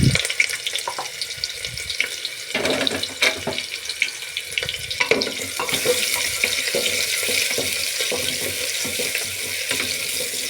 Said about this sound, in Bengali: এখানে আমি প্রেসার কুকারে তেল নিয়ে নিয়েছি, তেলটা আমার গরম হচ্ছে। এর মধ্যে আমি পেঁয়াজটা দিয়ে দিলাম।